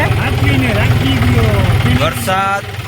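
A low tractor engine rumbles steadily at idle throughout while someone speaks over it, close and fairly loud.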